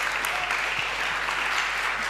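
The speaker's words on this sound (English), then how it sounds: "A big round of applause." Steady audience applause fills the room at a startup incubator demo day, dense and continuous from start to finish with no voices standing out.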